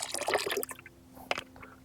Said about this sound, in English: I just pour it into the bucket of water itself.